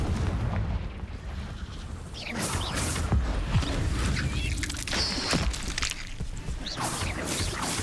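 Blasting Confringo spells go off inside a cave maze in Hogwarts Legacy. Several sharp booms and crackling impacts strike in an irregular rhythm over a constant low rumble.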